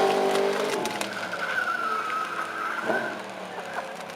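A Yamaha R1 sport bike performing stunts at a bike show lets out a sustained, loud tyre squeal over a roaring engine, holding steady for a couple of seconds before easing off.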